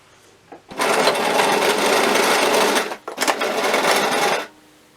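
A sewing machine stitches down an elastic skirt waistband, its loud rapid needle chatter running in two steady bursts with a brief pause between, close and alone.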